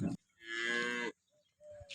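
A cow on its second calving gives one long, close moo at a cattle farm in Tharad, Banaskantha district, followed by faint, brief rustles and shuffles.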